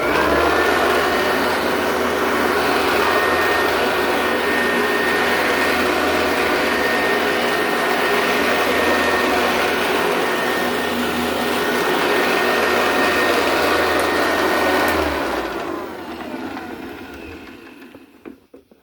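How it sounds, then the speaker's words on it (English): A restored Eureka commercial upright vacuum cleaner runs on carpet with a loud, steady motor roar and airy suction hiss lasting about fifteen seconds, then winds down and cuts off, with no talk. "This is the first time that I've actually tested this vacuum since its restoration with me."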